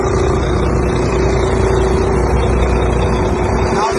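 A semi truck tractor pulls forward away from its uncoupled trailer, a steady loud diesel engine rumble that stays constant throughout.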